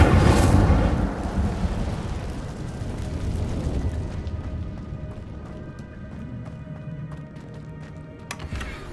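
An Incendio fire spell cast in a cave in Hogwarts Legacy erupts as a loud, close whooshing burst, then trails off into a long, fading rumble with faint clinks near the end.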